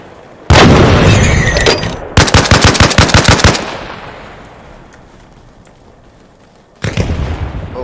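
Loud blasts hit in Arma Reforger on a Vietnam 1967 modded server, a sharp explosion followed by a rapid rattling burst, a long fading rumble, then another heavy blast, all close and without talk.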